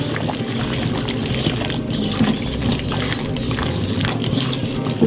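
Liquid poured steadily into a chicken fry mixture in a home kitchen, a continuous close splashing and trickling that holds at an even level for several seconds with no talk.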